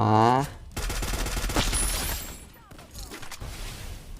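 Gunfire in the battle-royale mobile game Free Fire, a loud burst of rapid game shots and impacts that fills most of the short stretch and follows a brief tonal sound at the start.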